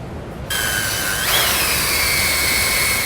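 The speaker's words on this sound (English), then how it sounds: "We're going to drill 2 holes up through that bottom cross brace the same way we did for our holes on the sides." Power drill boring holes up through a steel bottom cross brace of a crossbar-style base plate, a sharp high whine that kicks in and then shifts pitch as the bit bites, loud and close with no talk.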